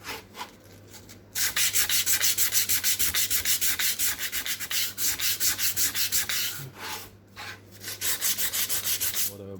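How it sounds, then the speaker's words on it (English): A wooden board for a tissue box is sanded by hand in quick, steady back-and-forth strokes, a close, dry scratching rhythm that pauses briefly twice. "For the bottom board, sand the inside and the outside as well."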